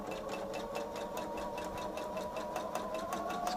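A sewing machine chain-pieces fabric strips for a table runner, its needle hammering in a fast, steady rhythm that runs without a break for the whole stretch, close up and clear with nobody speaking.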